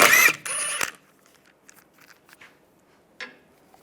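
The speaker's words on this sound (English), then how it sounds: "Take the wheel lock key, find which one is the wheel lock. Using a 17mm socket, take that out." A wheel lock nut coming off a Volkswagen Beetle with a 17mm socket: a loud burst of ratcheting and metal grinding for about a second, then faint scattered clicks and a last small clunk nearby.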